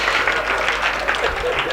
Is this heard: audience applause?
yes